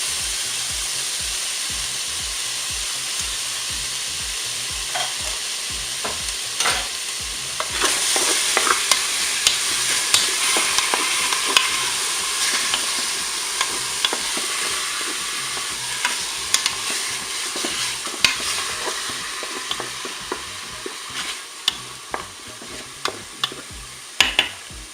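Chopped onions sizzle steadily in a Cookeo multicooker pot while a spoon stirs them, with a continuous frying hiss broken by repeated light scraping clicks against the pot.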